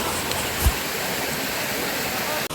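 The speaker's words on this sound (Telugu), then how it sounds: "నీళ్ళు చూసారు కదా, అది అసలు కొండ పైనుంచి వస్తున్నాయి" Water pours down from a hill at Kondapalli waterfall, a steady, moderately loud broadband rush with a faint bump from nearby movement, recorded outdoors.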